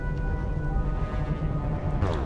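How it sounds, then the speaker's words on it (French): A steady, dense low mechanical drone from General Zod's terraforming machine in Man of Steel, rumbling and humming continuously with tonal overtones and a brief metallic swell near the end. "Ça, c'est le bruit de la machine de terraformation du général Zod dans Man of Steel."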